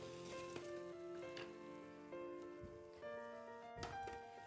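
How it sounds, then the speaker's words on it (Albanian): Sliced onion sizzles steadily in a pan with oil, a quiet, continuous frying crackle with occasional stirring scrapes, close and alone. "Në skuqet që kjo qepa."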